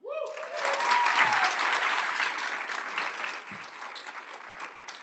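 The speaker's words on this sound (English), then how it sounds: "let's give another round of applause to Tyler Gwendolyn Brown" An audience applauding for Tyler Gwendolyn Brown, a burst of many hands that swells quickly, holds steady, then gradually thins out.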